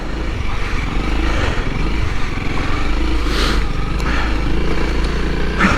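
A Honda CRF300L dual-sport motorcycle rides off-road over muddy, wet ground, its engine droning steadily and loudly throughout with a constant low rumble and some rougher surges.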